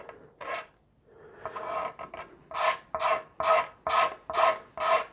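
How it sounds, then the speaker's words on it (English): A utility knife blade scrapes across a Rickenbacker 620/12 guitar body, a series of short, rasping strokes: a few uneven passes, then six or seven evenly spaced, close, crisp scrapes in a steady rhythm, with no talking. "I'm just going to take a utility knife blade and just work my way around just scraping away at stuff"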